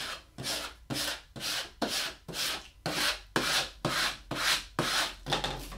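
A vinyl car decal is rubbed down onto a car with a squeegee or hand in about twelve steady back-and-forth strokes, a dry scraping swish, fairly close and alone.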